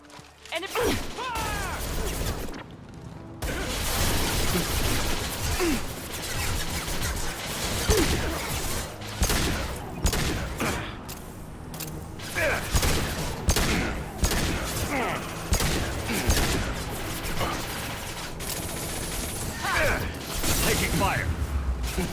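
Sustained gunfire in a Mass Effect Legendary Edition firefight, rapid bursts and mechanical weapon clatter layered densely with impacts, loud and nearly continuous, with voices shouting over the combat.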